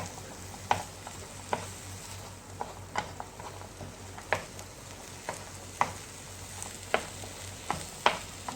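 Tomato and vegetables fry lightly on a tawa over medium-low flame, giving a steady quiet sizzle punctuated by regular soft scrapes and taps of a stirring spoon, nearly one per second.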